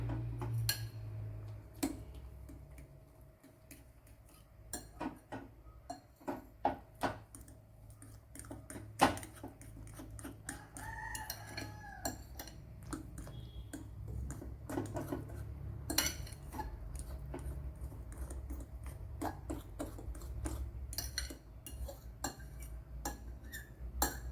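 Egg being mixed with salt and sugar in a bowl, heard as a long run of quiet, irregular clinks and taps of utensil against bowl, close and faint.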